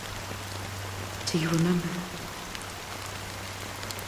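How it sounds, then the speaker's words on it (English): Steady rain patters throughout a scene in Honkai: Star Rail, a soft continuous wash with a low hum beneath, while a voice speaks briefly over it. "But it's still raining."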